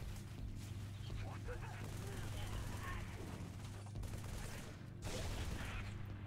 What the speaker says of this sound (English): You're getting shot at, brother.